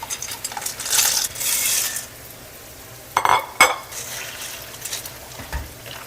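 Pasta and broccoli rabe being stirred in a cooking pot for orecchiette with sausage, with scraping and clinking of utensil against metal in short bursts, a couple of sharper knocks mid-way, and low background hiss between.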